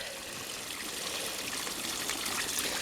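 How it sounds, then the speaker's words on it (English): Water streams steadily from a garden hose flushing a Yamaha outboard motor outdoors, a continuous close hiss and splatter that holds even and unbroken throughout. "turn the water off because it's made a huge puddle here"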